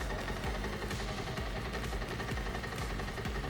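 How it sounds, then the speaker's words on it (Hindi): A Bajaj Pulsar 150 motorcycle engine idles steadily at close range, giving a continuous low, even rumble with no throttle changes and no talking. "आइडियल कंडीशन पर इस बाइक के इंजन का साउंड सुनिए।"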